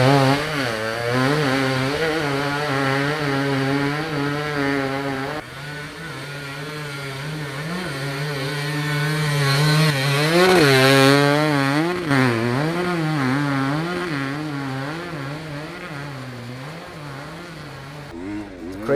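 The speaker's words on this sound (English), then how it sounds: "The sound was awesome, listen to this." A dirt bike engine labors and revs continuously on a hill climb during the Romaniacs 2019 race, pitch rising and falling as the throttle works, loud and close throughout.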